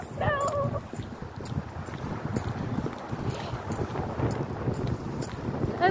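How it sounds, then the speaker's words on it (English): Blustery wind buffets the microphone outdoors during a snowstorm, a steady rough rumble that runs the whole time with gusty swells, while a few faint high tones come and go early on. "It's so snowy and windy out."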